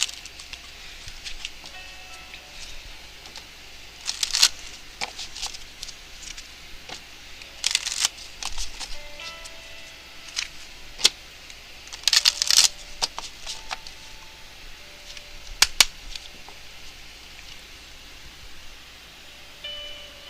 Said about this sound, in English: let me get a Romance Angels card here for you